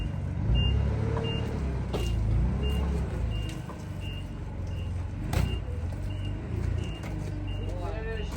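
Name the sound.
vehicle backing up with reversing beeps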